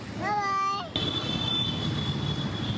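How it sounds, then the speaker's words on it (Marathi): A train rolls past close by at a station with a steady rumble, opening with a short, wavering horn-like tone before settling into continuous mechanical noise. "समोरच स्टेशन ट्रेन पण चालली बेटा ट्रेनला बाय बाय करा"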